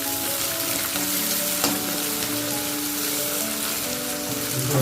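Dried red chillies sizzle and fry in hot tempering oil for a brinjal dish, a steady dense crackle with occasional stirring scrapes throughout, close and alone with no talk.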